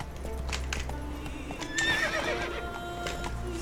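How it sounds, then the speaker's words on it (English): A horse whinnies in The Witcher 3: Wild Hunt, a loud rising neigh near the middle over steady clip-clopping hooves and game background sound. "Damn horse."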